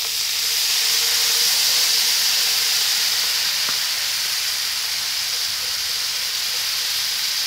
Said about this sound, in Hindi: अभी इसमें हम शामिल कर देंगे आधा ग्लास दूध का